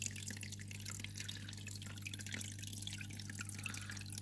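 Water trickles and drips steadily through a small stream in a mixed-species gecko terrarium, a faint continuous flow with fine splashy detail over a low steady hum.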